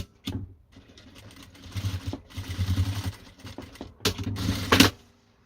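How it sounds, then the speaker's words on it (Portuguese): A sewing machine stitches a seam on a fabric pencil case in several rapid mechanical bursts, close and clear, with short pauses between runs and a final quick spurt. "Vou passar 2 costuras para reforçar"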